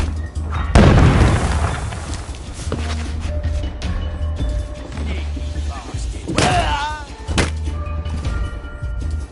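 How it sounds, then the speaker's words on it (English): Bombing raid in We Happy Few: a loud, close boom opens the scene, followed by scattered thuds, shouts and a few further bursts of rumbling debris. "They're bombing us again!"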